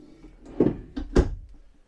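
Storage drawers in a 2021 Cougar Half-Ton 23MLS travel trailer opened and shut, giving two or three close, solid knocks and slides in quick succession, no talk.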